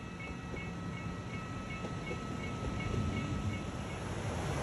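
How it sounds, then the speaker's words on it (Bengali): A train rumbles and clatters steadily nearby, arriving at Tirano station in Italy near the Swiss border, a continuous low rolling noise with faint metallic tones, no voices. "ট্রেন এখন শেষ স্টেশন তিরানোতে এসে গেল"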